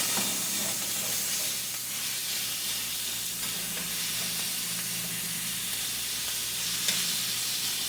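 80-20 ground beef frying in an oiled skillet for homemade chili, a steady loud sizzle and hiss with occasional soft scrapes as the meat is broken up and spread, no talking.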